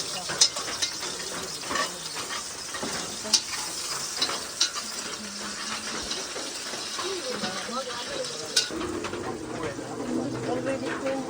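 Garlic fries in a pan while cooking in a nipa hut, a steady soft sizzle under people talking, with birds cooing nearby.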